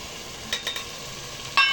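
Dry spice powders, chili, biryani masala, garam masala, coriander and turmeric, sautéed in oil for vegetable pulao, a soft sizzle with a few brief utensil scrapes and a sharper clink at the end.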